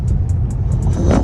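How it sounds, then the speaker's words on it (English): Inside the cabin of a Tesla Model 3 Long Range accelerating on a city drive: a loud, steady low road-and-motor rumble with a regular light ticking above it, swelling slightly at the end, with no talk. "We're going to test the speed of the car."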